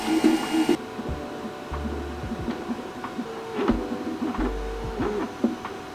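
A Voxelab Aries 3D printer hums steadily with soft whirring motor tones that rise and fall in short stepped patterns, occasional clicks, moderately quiet, no voices.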